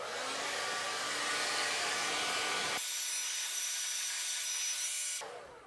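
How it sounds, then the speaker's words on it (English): A blow dryer runs close by as it dries glued cardboard, a loud steady whooshing hum that shifts in tone partway through and then cuts off near the end. "Sometimes I like to use a blow dryer to hurry up the process as well"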